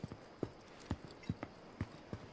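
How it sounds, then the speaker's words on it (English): Footsteps in the video game Final Fantasy 7 Remake, a series of soft, evenly spaced thuds with a clip-clop quality, moderately close over a low game ambience, with no talk. "There are footsteps and I just didn't hear them."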